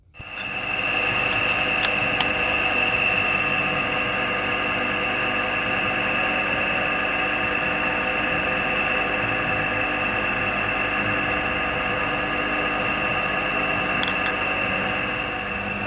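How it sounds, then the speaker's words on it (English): A drill bores holes in a steel shaft tube for a 4 1/2 inch Burrell traction engine build, a steady sustained whine with a constant high tone held for the whole stretch, close and loud, with no talking. "we are then drilling out the holes for the smaller tap size"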